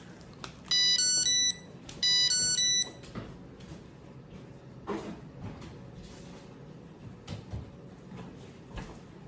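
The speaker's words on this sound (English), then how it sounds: "the pump, which has beeped at me again to say it's been too long without a pump on" A Tandem t:slim X2 insulin pump with no cartridge attached gives two short bursts of electronic alert beeps, followed by quiet handling clicks and rustles on a tabletop.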